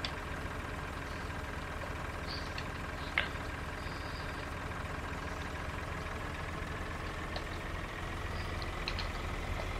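A tractor engine in the Farming Simulator 2013 video game hums at a steady, even idle, a continuous moderate drone with no voices over it.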